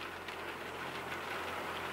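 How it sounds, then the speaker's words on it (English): Rain falling on a rainy day in New England, a faint, steady hiss of drops on surfaces with no voices, continuous and even throughout. "it's another rainy day here in New England"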